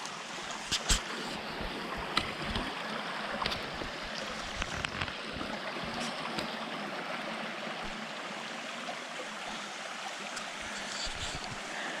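Mountain stream rushing steadily at a trail river crossing in the New Hampshire woods, a continuous close broadband wash with brief splashy bursts and faint wind, no talking.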